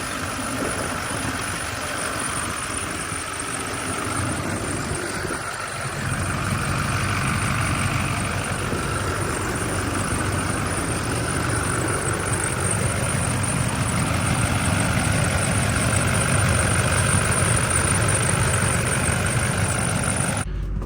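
A Duramax diesel pickup truck idles with a little blow-by, making a steady, close, low rumble that runs unbroken and alone, with no talk.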